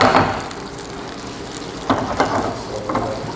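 Chicken seasoned with paprika and cumin sizzles and fries in a pan, a steady crackling hiss broken by a few louder pops or stirring scrapes, with no talking.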